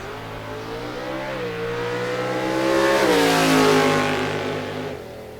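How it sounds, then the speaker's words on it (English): A drag-racing car revs hard and accelerates at a bracket race, the engine note climbing loud and close before easing off near the end, with no one talking. "Biondo dialed 621 in the Camaro. Baker dialed 753 in the Challenger."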